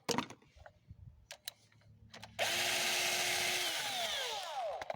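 A power drill loosens bolts on a motorcycle that burns oil and makes a strange noise; after some scattered clicks and knocks, the drill whirs loudly and steadily for the second half, its pitch sliding down as the bolt gives.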